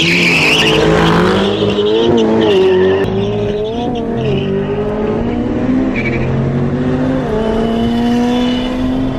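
A C8 Corvette and a Ferrari 488 Pista drag race on a drag strip, engines revving hard and rising in pitch as tires slip and squeal under low traction, loud and close.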